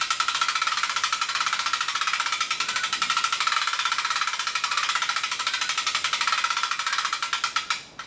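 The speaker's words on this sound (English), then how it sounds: "This is basically a bolt winch that I got from Harbor Freight. And it raises and lowers the table." A Harbor Freight bolt winch raising or lowering the table of a 20-ton shop press, a loud, steady rapid mechanical rattle that runs continuously for several seconds and then trails off at the end, with no talk.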